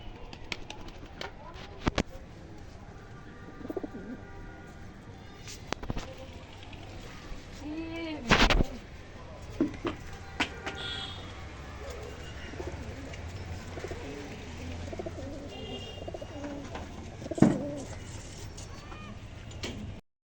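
Several pigeons, all of one colour, are let loose and take off, with bursts of wing flapping and soft cooing over an outdoor background, and a few louder flutters stand out.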